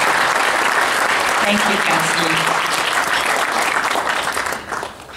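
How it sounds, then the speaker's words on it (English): Warm audience applause fills a political talk event, continuous dense clapping that carries for several seconds and thins near the end, with a voice speaking briefly over it. "let's give them a round of applause."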